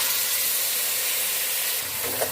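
Water poured into melting sugar and ghee with cloves and cardamom sizzles and hisses loudly and steadily in the pan, close up, with a short bubbling pop near the end.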